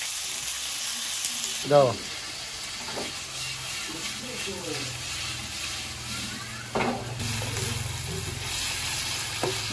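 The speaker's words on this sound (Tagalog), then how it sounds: "Lagay na natin ang pork." Pork hits a hot pan and sizzles steadily, a close, continuous frying hiss broken by a few clatters of utensils, while someone speaks briefly.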